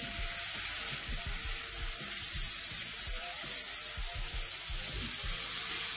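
Bread for a grilled cheese frying in a hot pan, a steady loud bright sizzle that holds throughout, with a few soft taps and knocks of the pan beneath it.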